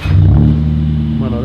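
A Mercedes A200 fitted with a new exhaust starts up, its engine catching with a loud, deep, close burst and settling into a throaty rumble.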